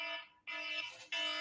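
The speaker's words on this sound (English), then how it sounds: "Oh my God, that's my alarm." A phone alarm goes off, sounding loud, bright, buzzy electronic tones in repeated pulses with brief dips between them, alone and with no talking.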